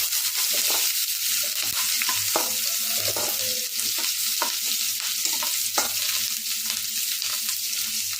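Onions sautéing in a pan after curry leaves have crackled in the oil, a steady sizzle with frequent spatula scrapes and clicks against the pan, close and continuous.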